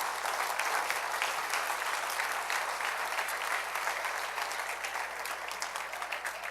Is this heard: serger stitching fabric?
no